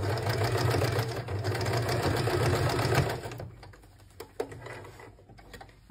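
A sewing machine stitches a waistband onto a straight skirt, running in a fast, steady mechanical whir for about three seconds, then stopping, followed by a few quiet clicks and handling sounds.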